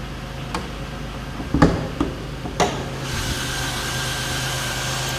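A 2003 Chevy Impala's 3.4 liter V6, around 69,500 miles, idles with a smooth, steady hum, preceded by a few close knocks and clicks before the even drone settles in.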